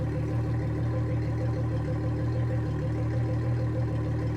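A Yamaha 225 four-stroke outboard engine runs at a steady idle after starting, giving a continuous low, even hum with a stable tone and no voices over it.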